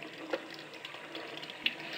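Tap water running onto a scrubbing brush fixed to a faucet, a faint, steady hiss of flowing water with small splashy fluctuations, close and alone.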